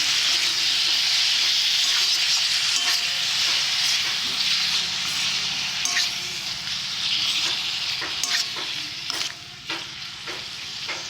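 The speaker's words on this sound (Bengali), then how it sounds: "লাউগুলো দেব হালকা করে নাড়তে থাকবো" Bottle gourd stir-frying in hot oil for a lau torkari, a steady bright sizzle with repeated scraping strokes of a spatula in the pan, close and continuous with no talking.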